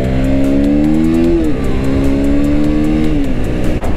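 A lightweight, powerful RC motorcycle engine whines loud and close at high revs, holding a steady pitch, dipping briefly as it shifts, then climbing again.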